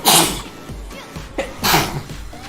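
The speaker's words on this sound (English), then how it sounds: "Now it's not the time for a sneeze." A person sneezes loudly twice in quick succession, the two sharp bursts separated by a brief pause with some breathy sounds between.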